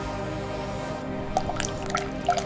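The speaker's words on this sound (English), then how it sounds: "Thick, melted chocolate flows across the cakes like a smooth waterfall of sweetness" Thick melted chocolate flowing over cakes on an automated factory line, heard as soft wet drips and trickles over a steady hum of machinery, with brief sharper splashes toward the end.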